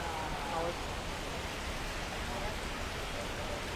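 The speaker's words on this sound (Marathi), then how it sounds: "जोरदार पाऊस अखेर आता पडताना आपल्याला पाहायला मिळतोय।" Heavy first-of-season rain pours down in Badlapur after a spell of intense heat, a dense, steady roar of falling water that holds evenly loud throughout with no clear voices.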